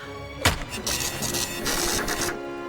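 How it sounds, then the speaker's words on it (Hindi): A home printer runs with a mechanical whirring and rattling feed, opening with a sharp clack and continuing in steady busy bursts. "क्या ये मेरे प्रिंटर के चलने की आवाज थी?"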